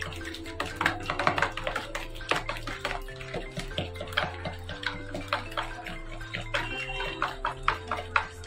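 A spoon mixes two freshly cracked eggs into chicken lollipop batter in a bowl, giving quick, irregular clicks and scrapes close by over steady background music.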